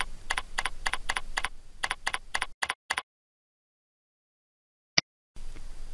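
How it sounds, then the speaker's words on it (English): Answers are typed on a computer keyboard as a quick run of close, crisp key clicks in an even rhythm. It then stops into silence, broken by one more isolated click. "Type the answers and click Next."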